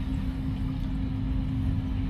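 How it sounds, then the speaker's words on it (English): A little engine on the power pack of a custom hopper conveyor runs steadily as a low, even drone that stays close and constant with no variation and no talk over it. "this is the little wee power pack on this, and there's a little wee engine on it"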